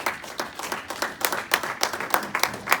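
A church congregation applauding during a sermon, steady dense clapping from many hands, moderately loud and continuous throughout.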